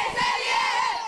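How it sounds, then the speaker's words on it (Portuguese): Fans cheer and shout together at a women's futsal match in Volta Redonda, a lively, sustained roar of mixed voices filling the indoor court. "eu tô do lado de uma torcida que tá aquecida demais"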